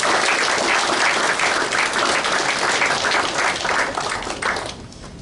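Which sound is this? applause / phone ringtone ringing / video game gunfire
applause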